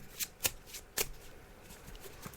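A deck of tarot cards is shuffled during a psychic reading, with a few quick, close riffling bursts that are quiet and heard alone without talk.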